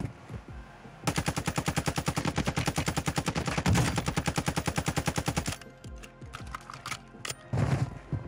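An ISO Hemlock assault rifle in a video game fires a long, loud, rapid automatic burst of evenly spaced shots for several seconds, followed by scattered shorter shots and clicks.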